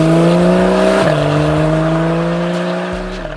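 Porsche 911 991.1 GTS accelerating hard on a stamped throttle, a loud close engine note holding steady, briefly dipping and then pulling on strongly.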